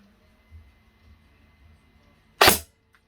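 Airsoft DMR rifle, a Secutor Rapax, firing a single Ares 0.4 gram BB, one sharp loud crack after a few faint handling clicks in a quiet setting.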